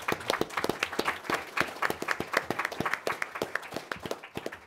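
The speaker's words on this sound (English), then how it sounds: "So if we could have a round of applause for everyone." At the close of a policy panel discussion on the India-China border standoff, the audience gives the panelists a round of applause, with sharp, fairly sparse claps from a smallish crowd sounding near and continuous.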